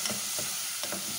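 Tomatoes sizzle in a frying pan for a sardines and beans lunch dish, a quiet, brief hiss with a couple of soft stirring scrapes, close by and without talk.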